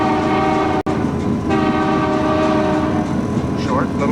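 Locomotive air horn sounded by a Canadian train crew at a whistle sign, a loud sustained chord blown over the engine's steady rumble, cut by one brief gap and then continuing.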